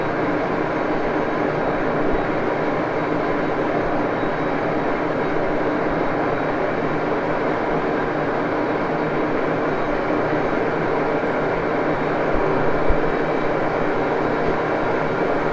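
Engine lathe with a D1-6 spindle in low range, tailstock drill feeding a 3/16 inch pilot hole: a loud, steady machine drone with a broad low hum and whine, constant throughout with only a small knock near the end.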